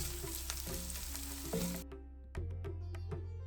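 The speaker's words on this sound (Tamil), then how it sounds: "இந்த மஞ்சளை வந்து இந்த நெய்யில் நல்லா ரோஸ்ட் பண்ணும்." Turmeric roasting slowly in ghee over a low flame gives a steady close sizzle and frying hiss, with a few soft stirring clicks and a brief drop in level partway through; no talking.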